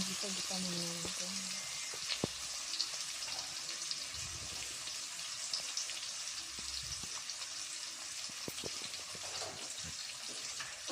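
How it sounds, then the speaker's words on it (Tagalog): Ingredients for pancit canton sauté in a hot pan with a steady, continuous sizzle, and a voice talks briefly over it near the start. "Ito naman, gisa-gisa muna natin."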